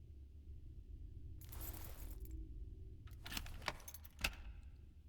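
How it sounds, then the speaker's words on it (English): A key turns in a lock in a video game and clicks twice, sharp and close, after a brief metallic jangle, over a low ambient hum with no talking. "the lock clicked with a somewhat pleasant sound as I turned the key"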